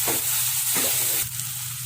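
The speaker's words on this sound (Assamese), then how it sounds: "জিৰা গুড়ি, ধনিয়া গুড়ি অলপ দি দিছোঁ আৰু এইখিনি মই ধুনীয়াকৈ লৰাই দিম।" A pumpkin mixture with cumin and coriander powder fries in a pan for kumura sop, a loud, close hiss broken by two or three quick scraping stirs.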